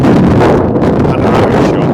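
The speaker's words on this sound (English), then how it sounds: "Over here, it's incredibly windy" Strong wind buffets the microphone at Glen Coe in the Scottish Highlands, a loud, continuous rushing roar with no voices.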